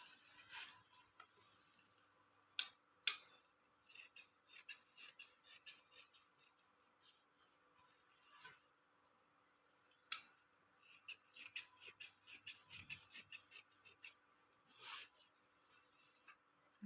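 Scissors cut through thin, curling cloth for a cross-cut blouse, giving quiet, irregular snips and slicing crunches in short bursts with pauses between, close by and without talk.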